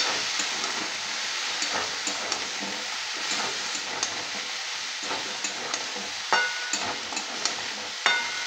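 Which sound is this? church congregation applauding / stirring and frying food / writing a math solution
stirring and frying food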